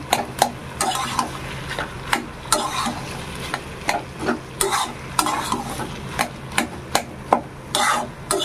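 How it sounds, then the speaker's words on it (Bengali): A potato and peanut curry is stirred in a pan, a spoon scraping and knocking against the metal in a regular rhythm of roughly two strokes a second, close and loud over a soft sizzle. "মিশিয়ে একটু ঘাটা ঘাটা করে রান্না করে নেব"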